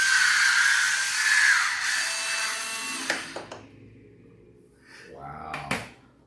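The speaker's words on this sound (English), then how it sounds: "If you don't have an electric wine opener, you should get one." An electric wine opener whirs with a steady motorized buzz for about three seconds, then cuts off, followed by a few sharp clicks and a brief rustle near the end.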